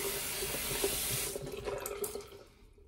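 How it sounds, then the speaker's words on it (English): Water runs steadily from a tap as hands are rinsed beneath it, a close, even splashing hiss that tapers off and quietens toward the end, with no talking. "Wash your hands."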